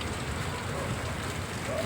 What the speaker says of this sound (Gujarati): વરસાદ થયો વરસાદ ચાલુ થયો બહુ